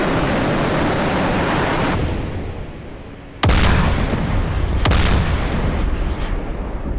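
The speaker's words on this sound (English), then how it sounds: "Patriots are shooting these ones down, look" Patriot surface-to-air missiles launching in the DCS combat flight simulator, heard as loud broadband roaring blasts with two sharp launch onsets in quick succession over a continuous rushing background.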